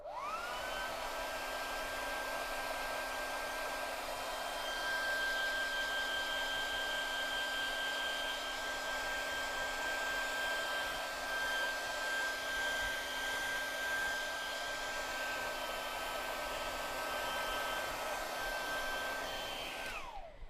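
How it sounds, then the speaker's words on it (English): A hair dryer blows steadily on an artist's painting to dry masking fluid, a continuous loud whirring rush with a steady whine that holds for about twenty seconds before cutting off at the end, with no speech. "basically I hairdry it just to speed it up because you can't paint over wet masking fluid"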